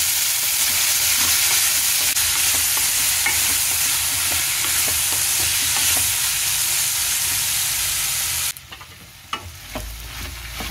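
Ridge gourd pieces fry in a home kitchen pan for a roti pachadi chutney, giving a loud, steady hiss of sizzling oil for about eight seconds. It then cuts down to a quiet background with light clinks.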